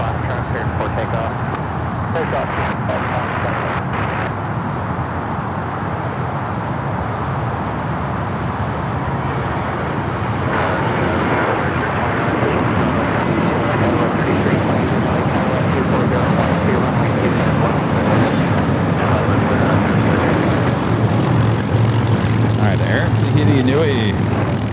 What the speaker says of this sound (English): takeoff here on the south side is United Airlines Flight 637 heading to Phoenix, the 737-800